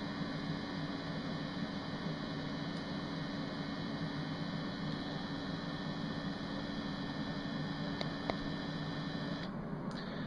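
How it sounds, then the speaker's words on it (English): An IQAir HealthPro Plus air purifier runs with a steady, even whoosh of white noise and a faint hum that holds for the whole stretch, broken only by a couple of tiny clicks near the end. "I found the unit to be quiet, actually helpful with the white noise during sleeping times."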